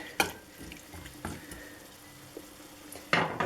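Carrots go into a pot of cooking pasta: a few soft clinks and splashes at the start, middle and end over a steady low bubbling, with no one talking.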